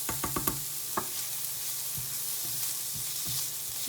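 Onions sauté in a pan for tofu tacos with a moderate, constant sizzle, broken early by a few sharp taps and spoon clacks, then softer scrapes at intervals, with no voices.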